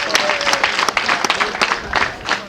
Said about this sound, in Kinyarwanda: amashyi abaye urwunge.